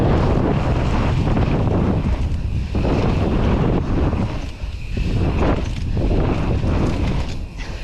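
Strong wind buffets the microphone while mountain biking down a bike park trail after a shark fin feature, a loud continuous roar with gusty swells and brief dips, no talking.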